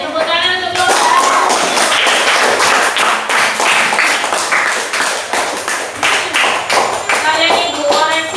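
A primary school class claps for a group of classmates, loud, close, rhythmic hand claps at an uneven pace, with children's voices heard briefly at the start and end.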